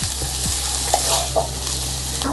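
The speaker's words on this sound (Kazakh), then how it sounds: "Осылай пияз бен сәбізіміз жақсылап езілгенше қуырамыз." Onion, carrot and tomato sizzle in hot oil in a pan for lentil soup, a steady close frying hiss broken by a few scraping stirs.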